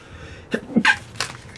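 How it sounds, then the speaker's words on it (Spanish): One person sneezes close to the microphone: a quick intake of breath, then an explosive burst followed by a trailing exhale, loud against a quiet background. "Dios, qué estornudo."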